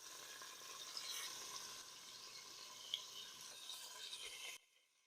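Ribs searing in avocado oil inside an Instant Pot give a steady, fairly quiet broadband sizzle with a couple of small pops, cutting off sharply near the end.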